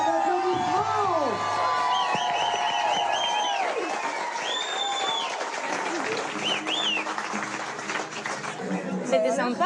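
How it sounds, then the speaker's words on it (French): Studio audience on a French wedding reality show breaks into loud, sustained applause with cheering, whoops and whistles, a dense crowd roar with voices chattering throughout. "Et on peut leur faire un tonnerre d'applaudissements."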